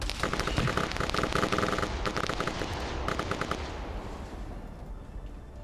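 Rapid automatic gunfire from a shooter video game, loud and continuous bursts of shots that thin out toward the end, heard alone without talk.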